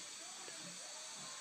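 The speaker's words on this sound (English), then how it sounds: "Nothing better than some white noise" Steady, even white-noise hiss played to help a month-old baby relax before bed, continuous and unchanging throughout at moderate volume with no voices.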